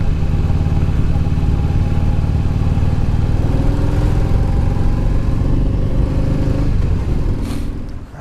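A motorcycle engine running hard at steady high revs, a loud droning roar with shifting tones, easing off slightly at the end.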